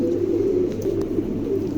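Pair of large fancy pigeons cooing softly in a low, steady murmur, with a faint hum in the background.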